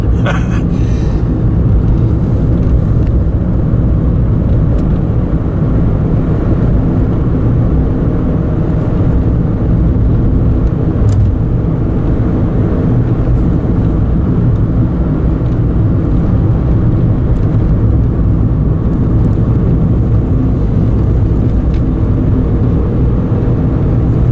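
A steady, loud rumble of road and engine noise fills the interior of a moving car, with constant low-pitched drone and no talking.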